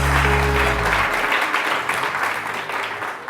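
Studio audience applause on a TV morning show, a dense burst of clapping that starts strong over a fading musical sting, then carries on steadily and slightly thinner for a few seconds.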